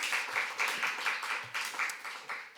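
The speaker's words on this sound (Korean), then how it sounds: "우리 박수로 한번 격려를" Church congregation clapping together during a Sunday service, a steady, fairly faint round of applause from a large room that swells and dips over a few seconds.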